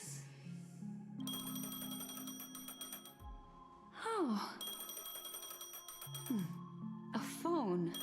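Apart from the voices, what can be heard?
phone ringing in Honkai Star Rail video game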